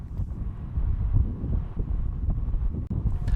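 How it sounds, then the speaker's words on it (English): Wind gusts of around 50 to 60 kilometers an hour buffet a lock viewing platform, producing a steady, loud low rumble against the microphone with no talk. "The wind gusts around about now"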